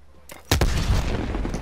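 Grenade blasts and gunfire in a one-on-one video game match: a sharp crack, then a loud, close explosive boom that rolls into a sustained rumbling roar.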